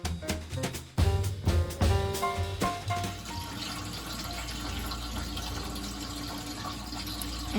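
Water pours steadily into a water bath canner, starting with a few clunks and splashes before settling into a continuous rushing fill, close and moderately loud.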